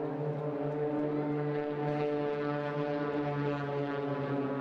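Blades aerobatic team propeller aircraft flying a display at the Eastbourne International Airshow, one rolling through the smoke, giving a steady droning engine hum with a strong low tone held throughout, fairly near and continuous, with no talk.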